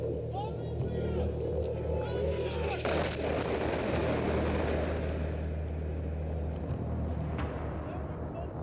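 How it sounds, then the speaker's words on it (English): Bombs explode during a military engagement on a ridge, heavy low rumbling blasts and roaring noise rolling on for several seconds as voices talk over the din. "Bombs inbound."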